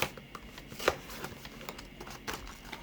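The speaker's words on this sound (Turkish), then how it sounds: "İşte direkt yırtalım arkadaşlar." A plastic wrapper on a Labubu toy package is ripped open by hand, giving a run of close, crinkly tearing and rustling bursts with one sharper rip near the start.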